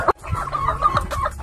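Chickens cluck close by on a free-range farm in the Philippines, a short burst of several quick, throaty clucks following one sharp call, with no talking.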